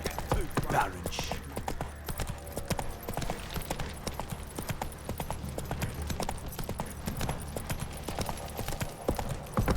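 Steady clip-clop of a galloping horse's hooves in The Witcher 3 video game, a rapid rhythmic beat running the whole time alongside game music and a low background rumble, with brief speech near the start.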